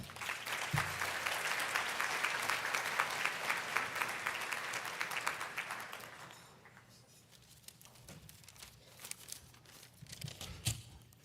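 A graduation-day audience claps warmly to welcome a speaker onstage, a dense wash of applause that fades after several seconds into scattered claps and room noise.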